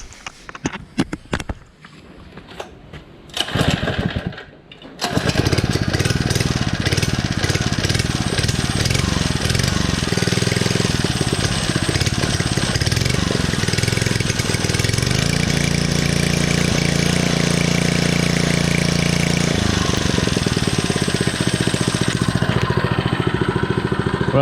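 A 79cc Predator small gasoline engine fitted to an Azusa vintage-style mini go-kart starts after a few seconds of pull-start noise and then runs loudly and steadily at a close, even idle.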